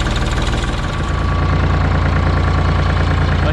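A loader tractor's diesel engine runs on a cold winter morning before snow pushing, a loud, steady close-up throbbing idle with a rapid knocking pulse throughout.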